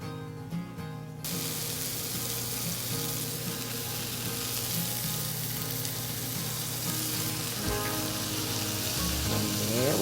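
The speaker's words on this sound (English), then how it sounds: "Just gonna get them fried up." Hamburger patties fry in a pan with a loud, steady sizzle and spatter that starts abruptly and keeps going, close up with faint bubbling throughout and no talking.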